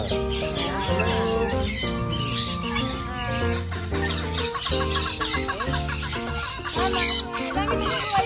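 Domestic chickens at a home in Alaminos, Laguna cluck steadily and loudly close by, with fowl calls overlapping throughout and a crow-like cry rising near the end.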